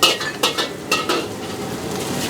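Curry fried rice is stir-fried in a pan, with a spatula scraping and clinking against the metal in quick irregular strokes over a steady close sizzle.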